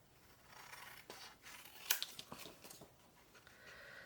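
Scissors snip out paper pieces for a Christmas card keepsake, a quiet series of close, crisp cuts with a sharper snip in the middle and softer rustling of paper between strokes.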